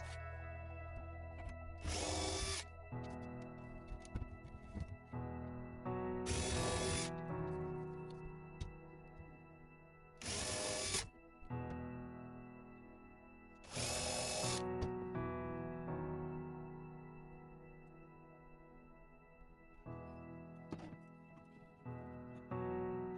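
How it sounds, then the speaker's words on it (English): Four short bursts of a power drill spinning up with a self-centering bit, pre-drilling holes for a pull-out drawer, each a second or two long, separated by quieter pauses with faint background hum. "pre-drilling with a self-centering drill bit"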